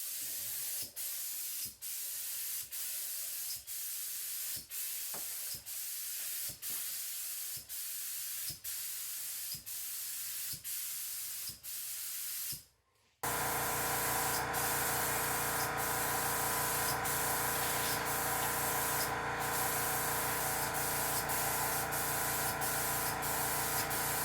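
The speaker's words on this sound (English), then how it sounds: "I'm about to get ready to spray." A paint spray gun hisses in short regular bursts while a tester panel is coated, then after a brief gap runs as a loud, continuous steady spray during the painting of a Walker Turner 10-inch table saw restoration.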